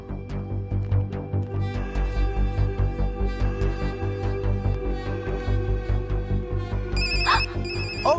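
A mobile phone ringtone rings without a break for about eight seconds. It is a loud, repeating electronic melody with a steady pulsing rhythm, and no one speaks over it.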